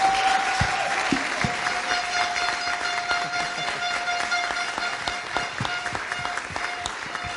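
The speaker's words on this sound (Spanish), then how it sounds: "un fuerte aplauso para ustedes" A casting forum audience gives a round of applause, a steady wash of clapping with some sharper individual claps standing out, fairly close and continuing for several seconds beneath a steady tonal hum.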